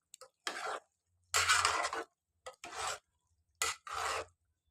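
Spoon stirring chicken curry with tomatoes in a pot, heard as a series of short scraping, rasping strokes with pauses between them, close and fairly quiet, with no talk.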